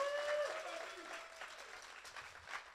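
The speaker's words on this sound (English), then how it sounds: "let's give a round of applause to New Jersey" At a company all-hands meeting, a room of employees gives a round of clapping, fairly faint and distant, while a voice briefly carries over it at the start.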